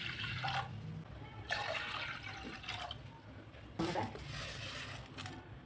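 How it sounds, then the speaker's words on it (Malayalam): Water is poured into a pressure cooker holding moong dal for payasam, a steady close splashing and trickling stream with a few stronger gushes, no voices over it. "കുറച്ച് വെള്ളം ഒഴിച്ചു കൊടുക്കണം."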